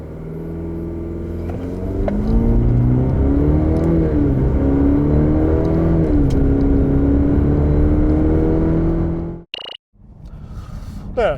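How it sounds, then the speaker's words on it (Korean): A 2021 Cadillac CT5 with a 2.0-litre turbo engine and ten-speed transmission accelerates hard, its engine note climbing loud and steady through the gears for about nine seconds before cutting off abruptly, followed by quieter rumbling. "여기서 잠시 이 CT5 가속 성능은 어떤지 확인해 볼까요?"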